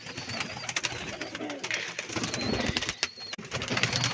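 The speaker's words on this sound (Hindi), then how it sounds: "तो अभी मैं आपको कबूतरों के बच्चे दिखाऊंगा।" Pigeons coo softly in a backyard loft after rain, with scattered chirps and rustling around them and no talk.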